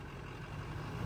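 A Duramax diesel truck engine idles steadily, a low, continuous rumble held close at constant level without revving or voices.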